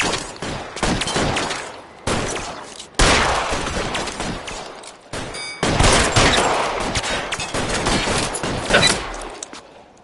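Gunfire from the crime video game L.A. Noire: sustained, loud bursts of shots in a dense fusillade, with brief pauses between volleys and a steady rattle throughout.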